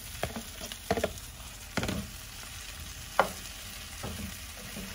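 Chili, onion and mushrooms frying in a pan while being stirred, with a soft sizzle under scraping and knocking strokes of the utensil, close and moderately quiet.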